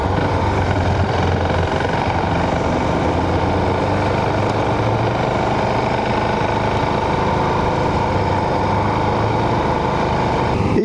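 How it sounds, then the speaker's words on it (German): A 2016 KTM 690 Duke single-cylinder motorcycle engine drones loudly and steadily while riding, a continuous rough, throbbing growl mixed with wind rush, with no speech. "Ich fahre heute die neue 96 Duke 5."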